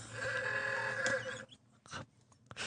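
Phone ringtone mimicking a horse's neigh, a loud, wavering bleat-like cry followed by quieter broken bursts.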